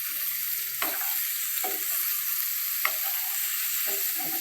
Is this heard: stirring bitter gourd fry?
yes